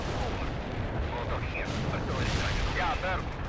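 Bomber strikes in the World in Conflict strategy game land as rumbling artillery-like explosions, a dense continuous barrage heard under someone talking.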